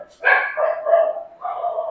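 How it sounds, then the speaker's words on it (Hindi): Several dogs bark in a short, loud burst of overlapping yaps and barks, close by, with no talk over them. "मेरे यहाँ कुत्ते भौंकने लगते हैं"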